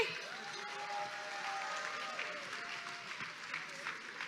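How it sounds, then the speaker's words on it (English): A gala dinner crowd claps for award winners, soft and fairly distant, with a faint murmur and a few cheers mixed into the even applause. "let's give a round of applause to all of our winners"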